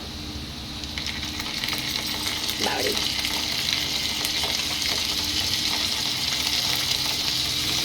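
Loud, steady sizzling of ginger-garlic paste frying in hot oil, a continuous hiss with faint stirring clinks and no voices.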